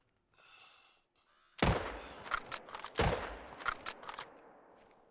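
Two loud hunting rifle shots fired at mule deer in theHunter: Call of the Wild, each a sharp crack with a rolling echo tail. A faint breath is heard first, before the opening shot.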